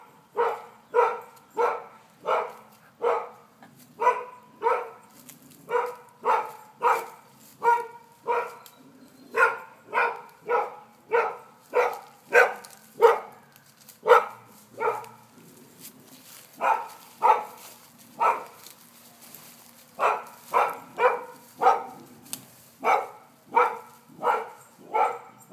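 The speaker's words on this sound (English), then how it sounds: "I don't think that dog is going to be quiet" Two dogs bark persistently outdoors at some distance, in rapid regular volleys with brief pauses, the barking clear and alone with no talk over it.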